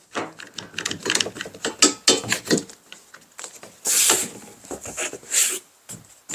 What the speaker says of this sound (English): So I'm going to clamp this straight edge from wandering.